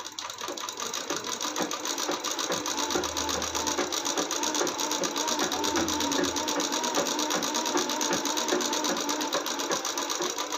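A sewing machine runs steadily while stitching a salwar belt, a continuous close mechanical whir with a rhythmic ticking of the needle throughout.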